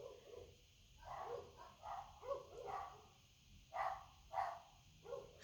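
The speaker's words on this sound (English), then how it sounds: "That little dog, he barking." A small dog barks in a series of short, fairly faint yaps with irregular gaps, heard from a little distance in a quiet room.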